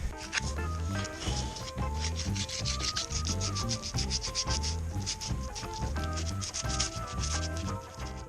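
Hand sanding of a Graziella bicycle frame with sandpaper in spots hard to reach with a disc: steady rhythmic rubbing strokes, partly buried under loud rhythmic background music throughout.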